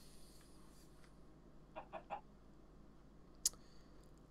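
A chicken clucking in Minecraft, with the Better than Wolves mod: three short quiet clucks in quick succession, then a sharp brief squawk, over faint steady game ambience.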